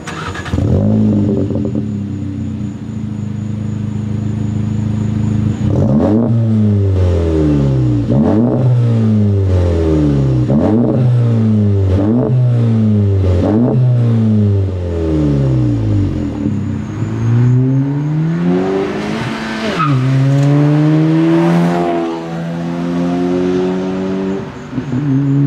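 The exhaust of a VW MK7 GLI revs loud and close, with a sustained engine roar rising and falling through repeated throttle blips in the mid-range, then a longer climbing rev near the end.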